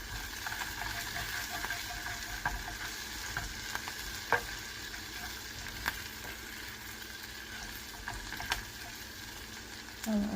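Coriander (cilantro) leaves wilt in a hot frying pan with a constant close sizzle, broken by scattered light taps and scrapes of a spatula. No one speaks.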